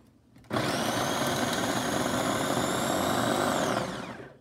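A small electric food chopper runs on onion with a loud, steady whirring motor buzz that starts abruptly, holds for about three seconds and then winds down, with no talk over it.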